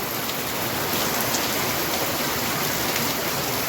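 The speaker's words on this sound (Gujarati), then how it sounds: "ધમધોકાર મોટે છાંટે વરસાદ ચાલુ થયો છે" Sudden heavy downpour in Junagadh with large raindrops, a thick, loud, steady wash of rain hammering nearby surfaces, constant throughout with no speech.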